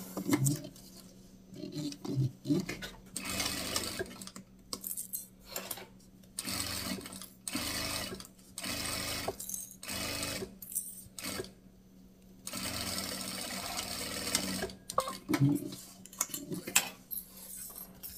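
A sewing machine stitches a straight seam on a small fabric phone pouch, running in loud close bursts of rapid whirring that start and stop several times, with short pauses and faint handling clicks between runs.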